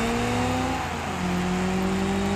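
Motorized diecast toy cars race on a track in a mini league playoff heat, a steady loud whirring motor drone with shifting pitched tones as the cars speed around, no voices.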